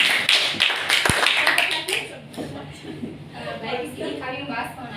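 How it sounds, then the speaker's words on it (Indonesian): Classroom applause for a student group after their presentation, a burst of quick hand claps with a sharp thump, then fading into chuckles and murmuring voices. "berikan tepuk tangan kelompok 2."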